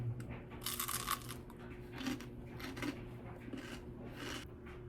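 Crunchy bites into toasted, buttered homemade English muffin bread, a few crisp crackling bursts spread across the clip, close and fairly quiet, with no talking.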